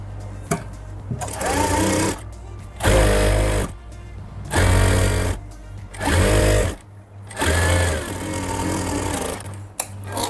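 Sewing machine stitching the seam of an Afghani salwar, running in several separate loud bursts of rapid mechanical whirring with short pauses between them.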